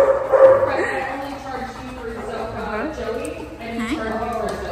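Pet dogs yip, whimper and bark in short, uneven bursts close by, while several people talk over and around them throughout.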